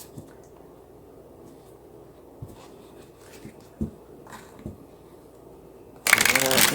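Tarot cards shuffled by hand, soft intermittent riffles and taps in a quiet room, followed by a louder burst of rustling near the end.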